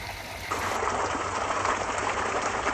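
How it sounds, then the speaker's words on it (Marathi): A river flows beside a village nestled in the Sahyadri hills, a steady, broad rush of water that swells slightly after the opening and holds evenly throughout, with no voices. "गावाच्या शेजारी नदी वाहते"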